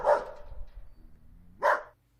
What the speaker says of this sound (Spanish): algunos de sus ladridos en la madrugada es el anuncio